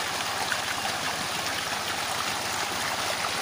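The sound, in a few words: water flowing into small field swimming pool from motor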